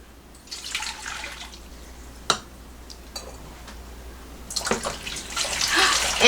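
Hot water is poured into a bread dough mixture in a home kitchen, giving a splashing, trickling pour with a couple of sharp clinks from the container before the stream grows louder toward the end.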